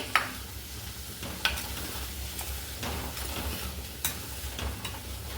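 Sprouted moth beans sautéed in a pan, a steady soft sizzle with scraping spatula strokes and a few sharper knocks against the pan, close and continuous with no talking.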